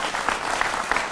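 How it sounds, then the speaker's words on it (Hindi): Brief, dense applause from a television studio audience welcoming guests to a debate show, a steady wash of clapping for just over a second. "तो जोरदार तालियों से सब मेहमानों का स्वागत करिए।"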